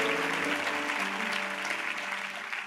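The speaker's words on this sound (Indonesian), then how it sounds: "Berikan tepuk tangan buat Tuhan." Church congregation applause rolls on as a dense clapping wash beneath sustained organ or keyboard tones, moderately loud and gradually tapering.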